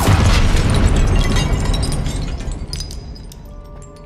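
The Confringo blasting curse explodes in the Hogwarts Legacy video game with a loud, booming burst that rumbles and crackles, then slowly fades with faint tinkling debris and no voices.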